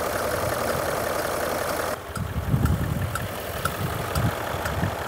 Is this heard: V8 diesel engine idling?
yes